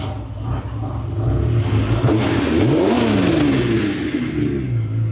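A V12 car engine with a new exhaust revs up loudly nearby, its rumble climbing and falling through a sweeping rise in pitch before settling back toward idle.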